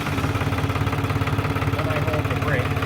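A tractor engine idles steadily after starting, a close, even low rumble with a regular pulsing throb while a person talks over it.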